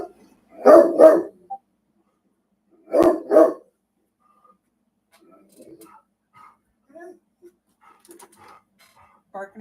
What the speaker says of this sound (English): Barking at the mailman?